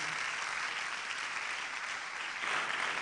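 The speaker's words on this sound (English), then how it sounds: "a round of applause for Professor Fred Magbagunluri" An audience at a student mentorship session gives a round of applause for Professor Fred Magbagunluri, the clapping a dense, even wash of a room full of hands, somewhat distant and steady throughout.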